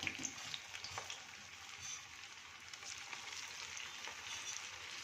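Crispy methi snacks frying in hot oil, a faint, steady bubbling crackle with scattered small pops that carries on evenly and alone.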